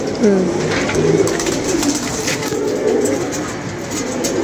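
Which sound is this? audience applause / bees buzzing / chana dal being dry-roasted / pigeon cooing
pigeon cooing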